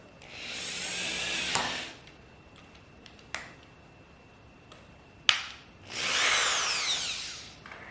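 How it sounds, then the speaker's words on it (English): A power drill whirs through wood in two bursts, about two seconds each, near and loud, with a few sharp clicks and knocks between them while crafting a reversible pumpkin and snowman decoration. "Then I'm going to take my drill"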